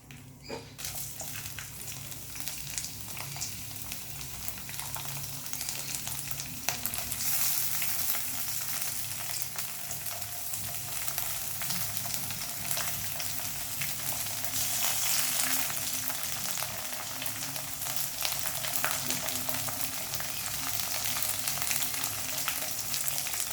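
Curry leaves and garlic fry in oil for a mango-ginger pickle, a dense steady sizzle with crackling and spattering close by, continuous and fairly quiet throughout.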